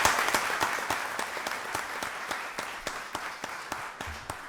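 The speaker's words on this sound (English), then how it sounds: "Let's give him another round of applause." An audience at a county board of commissioners voting session applauds Sergeant Warren, a thinning round of clapping where individual sharp claps stand out as it tapers off, with no talk over it.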